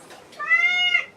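A person imitates a cat's meow, a single drawn-out, rising and falling mew lasting under a second, close and clear.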